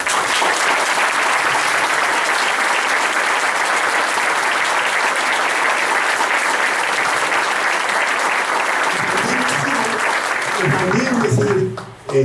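A large audience at a labour-history lecture breaks into sustained, dense applause that holds loud and even for about eleven seconds before tapering off as a voice returns at the close.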